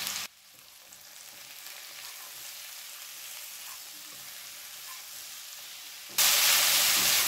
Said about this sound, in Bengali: এবার মিডিয়াম ফ্লেমে আরও 1 থেকে 2 মিনিট নাড়াচাড়া করব।